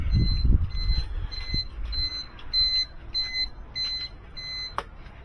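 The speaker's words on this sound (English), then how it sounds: "The alarm." An alarm gives a series of short, high, regular beeps, fairly faint, over low rumbling background noise in a workshop where Suzuki Carry kei truck suspension parts are being powder coated and painted.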